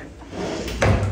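A closet drawer slides and bumps shut with a short wooden thud near the end, close by in a quiet room.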